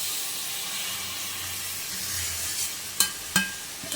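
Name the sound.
chopped tomatoes added to hot pan, sizzling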